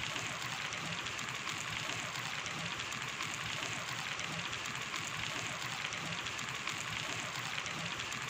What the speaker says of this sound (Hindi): इसे लो से मीडियम फ्लेम पे फ्राई करें।